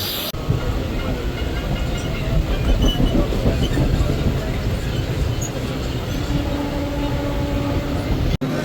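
A Mumbai local train rumbles steadily along the tracks with a loud, continuous rattling roar from inside a carriage, faint voices underneath.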